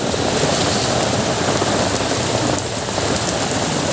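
Heavy rain pours steadily throughout, a dense, continuous hiss of drops with no letup.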